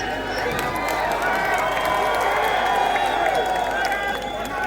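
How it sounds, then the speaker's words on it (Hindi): A large live crowd at a temple event in Jaisalmer claps, cheers and whistles in a steady, dense wash that runs unbroken throughout, with a voice talking over it. "शॉट पे जो तालियां सीटियां बज रही हैं"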